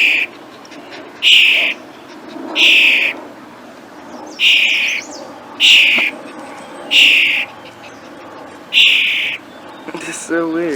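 A bird repeats an odd, harsh call about seven times at a steady pace, each call loud and close with short quiet gaps between them.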